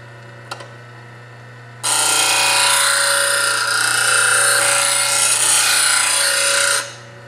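Bench grinder grinding the primary bevel of a plane blade: after a quiet hum, a loud, harsh continuous grinding rasp starts abruptly, holds for about five seconds close by, then stops.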